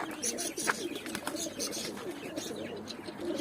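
Pigeons coo softly at close range, low repeated murmuring calls mixed with faint chirps and rustling, no talking.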